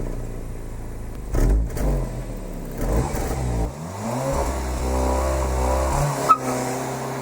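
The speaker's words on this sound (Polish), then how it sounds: "Podczas zmiany biegów słychać coś na wzór pierdnięcia, podobnego jak w Golfie R czy Audi S3" Skoda Superb Sportline 2.0 TSI 280 4x4 driving, its muted exhaust giving brief dull pops and blips during gear changes between steady engine hum and revving, close and moderately loud with no talking.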